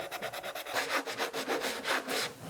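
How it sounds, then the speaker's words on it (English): Hand sanding the edges of a cake with a medium sanding block: a steady run of rhythmic rasping strokes, close and fairly loud, repeating back and forth with no talking. "I have so much fun sanding that I just want to do it over and over and over again."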